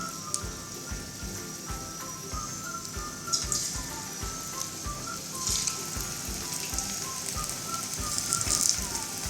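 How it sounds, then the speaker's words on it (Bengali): Chicken pieces fry in hot oil with a soft, steady crackling sizzle and scattered faint pops, heard alone without talk. "এবার আমি চিকেন পিসেসগুলো এর মধ্যে দিয়ে ভেজে নেব।"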